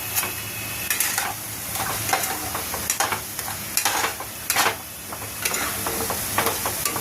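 Masala of chili powder and other spices fried and stirred in a pan for prawn makhana malai, a soft sizzle under intermittent scraping stirs, close but fairly quiet.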